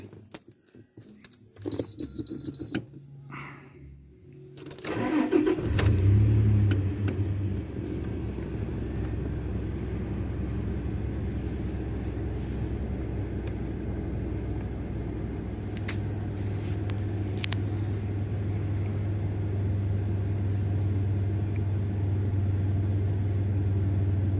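A car engine cranks and catches after its stored fault code is erased, then settles into a steady, close idle rumble that runs unbroken. Brief key jangling comes just before it starts.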